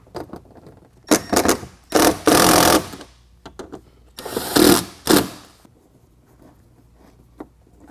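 A power driver whirs in several short bursts, spinning screws tight on fender flares on a 2021 Ford F-150, loud and close, with quiet pauses between runs and no talking.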